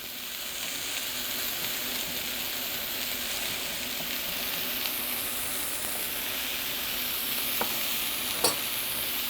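Mushrooms and onions sizzling in a pan for a frittata, a steady close hiss and crackle with a few sharp pops and scrapes toward the end, no talking.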